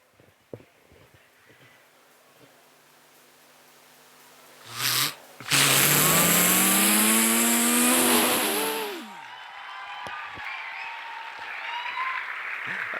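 At a university youth-fest mimicry performance, a voice imitates a sports motorbike riding off: a loud rising engine whine swells and climbs for a few seconds, then fades into crowd noise, with brief clapping just before.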